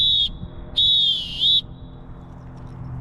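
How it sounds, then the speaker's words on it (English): Referee's whistle blowing the full-time signal: a short shrill blast, a pause, then a longer sustained blast with a slight break partway through, loud and close, with no voices. "Take a deep breath before you blow into the whistle."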